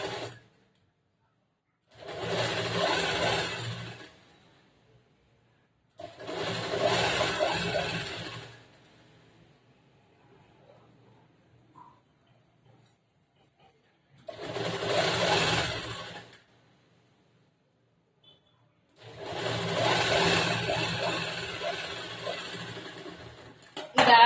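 A sewing machine runs a long basting stitch in a tailoring class, sounding in four separate whirring bursts of about two to four seconds each, close and fairly loud, with quiet pauses between them.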